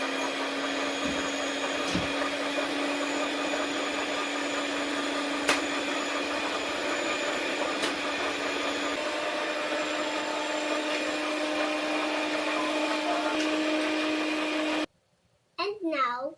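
An electric mixer beating chocolate cake batter as vanilla and eggs go in, a steady close whir with a few knocks of the beaters against the bowl, cutting off abruptly near the end before a voice speaks.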